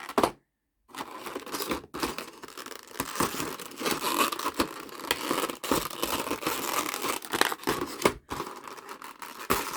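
Strips of tape ripped from the packaging of a Chibi Masters Demon Slayer figure: loud, close tearing and crinkling in repeated bursts, with brief pauses between pulls.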